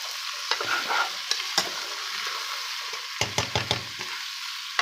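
Chicken with ginger garlic paste sizzles in a hot pan while a spoon scrapes and stirs it in repeated short strokes, close and moderately quiet, with no talking.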